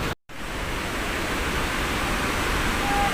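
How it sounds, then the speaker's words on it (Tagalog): A forest waterfall roars close at its base, a dense, continuous wash of falling water with no break or voices. "Ito yung baba ng falls. Ang ingay, no?"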